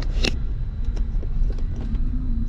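Road traffic outside Quebec City rumbles steadily from inside a moving car, with a low continuous engine and road drone, a sharp click near the start and faint small rattles.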